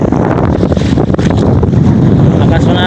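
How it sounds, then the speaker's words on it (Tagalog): Strong wind buffets a fishing boat out at sea on a longline fishing trip, a loud, steady roar of gusts against the microphone with boat and water noise, voices faintly audible beneath. "Lakas ng hangin."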